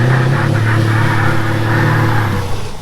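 A Scania V8 truck pulls away from a standstill, its engine roaring loud and close with a steady deep drone that holds strong throughout, then eases slightly at the end.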